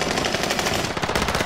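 Rapid automatic gunfire in a video game, a dense loud burst of repeated shots running continuously without pause.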